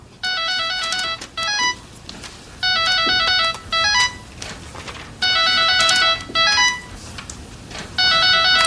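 A cell phone ringtone plays a repeating electronic melody in loud bursts, roughly four rounds of the tune separated by short gaps, sounding close by with no one talking over it.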